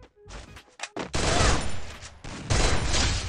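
Machine gun fire in the Free Fire video game: a few isolated shots at first, then sustained rapid automatic bursts, loud and close, with a brief pause before a second burst.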